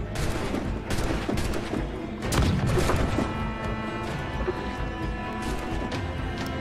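Ship cannons fire in the pirate game Assassin's Creed IV Black Flag, a cluster of sharp booming blasts with crashing impacts amid steady ambient game noise.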